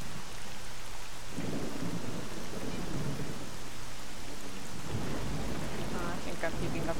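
Heavy rain pours in a video game set in Pripyat, with low rolling thunder rumbling through twice over a constant hiss of rain.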